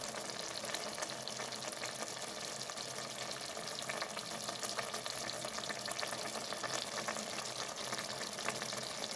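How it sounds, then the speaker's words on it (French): Algerian khalota sauce simmering on very low heat in a covered cocotte while it reduces, giving a steady, soft sizzling and bubbling hiss that stays even throughout, with no voices. "On laisse toujours sur feu très doux jusqu'à ce que la sauce réduise bien"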